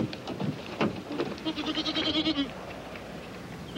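A goat bleats repeatedly in a wavering, trembling call, fairly close, over some background rustling.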